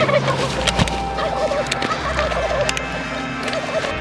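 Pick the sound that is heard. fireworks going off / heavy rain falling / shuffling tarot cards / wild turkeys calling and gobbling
wild turkeys calling and gobbling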